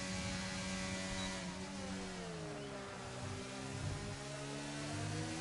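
A Red Bull Formula 1 car in a racing game, its high-pitched engine climbing steadily through the gears in a smooth, sustained whine at moderate volume, with no talking.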